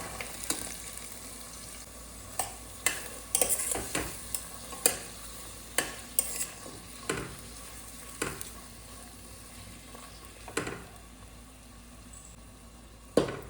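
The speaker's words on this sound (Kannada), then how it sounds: "ಅವರೆಕಾಳು ಮತ್ತು ಗೆಣಸು ಕೊಚ್ಚಿಟ್ಕೊಂಡಿದ್ದೆ, ಗೆಣಸನ್ನು ಹಾಕ್ತೇನೆ." Chopped yam going into a pan of field beans for a traditional Karnataka pulao, with a steady low sizzle of frying and repeated sharp scrapes and clinks of a spoon stirring against the pan throughout.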